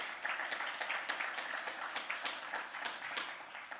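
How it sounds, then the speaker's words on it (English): Audience applause at a leadership summit, a quiet, fairly distant steady patter of many people clapping that holds evenly throughout with no voices over it. "So yeah, round of applause."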